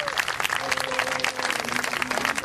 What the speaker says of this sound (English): give the winners a big round of applause